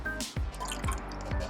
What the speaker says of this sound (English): So let's pour it back in there.